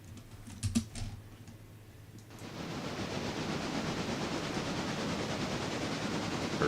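Train rolling along rails in the railroad simulation game Railroader, starting quiet with a few small clicks, then a steady, fairly loud broadband rumble that stays constant to the end.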